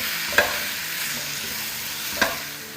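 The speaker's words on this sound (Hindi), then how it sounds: "तो यहाँ देखिए चिकन अच्छे से फ्राई हो रही है" Thin, finely cut chicken pieces fry on a high flame for a pasta dish, a constant hissing sizzle with two sharp clinks of a spoon hitting the pan as it is stirred.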